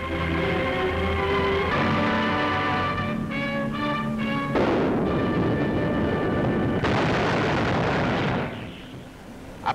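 Allied artillery fire in a World War II newsreel on the advance through Italy comes in as a heavy, sustained rumbling roar that takes over from orchestral music midway and fades near the end.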